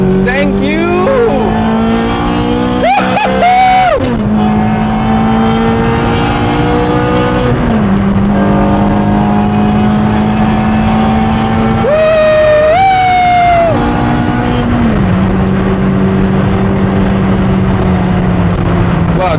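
A Ferrari F430 with an iPE exhaust roars loudly up close, its engine revving hard, climbing and dropping through several sharp pitch swings with crackling bursts, sustained and dominant throughout.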